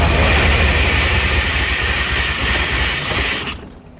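A 1984 Corvette that sat for years runs roughly and starved of fuel, its engine droning loud and steady up close before the sound cuts off abruptly near the end.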